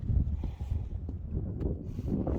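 Wind out in the open at Canyonlands National Park in Utah, a steady low buffeting roar across the microphone with some faint rustling and no talking.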